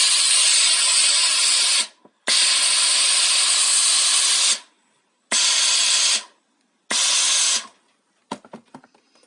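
A Tefal GV5235 steam generator iron releases steam in four loud, close hissing bursts of a few seconds each, separated by short silences, followed by faint clicking.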